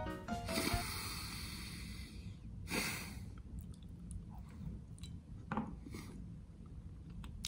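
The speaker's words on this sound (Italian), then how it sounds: "Sembra di masticare calcestruzza praticamente." Someone chews a mouthful of dense, heavy pasta, giving wet, rasping mastication noises and snorting breaths up close, with louder bursts near the start and again midway, no talking.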